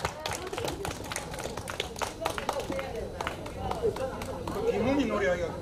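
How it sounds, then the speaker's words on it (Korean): An outdoor crowd at a concert in Yongdusan Park, Busan, marking the 104th anniversary of the March 1st Movement, gives faint, scattered applause that sounds distant, mixed with chatter and voices. "큰 박수 다시 한번 보내주시기 바랍니다"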